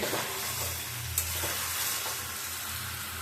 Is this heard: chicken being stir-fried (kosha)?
yes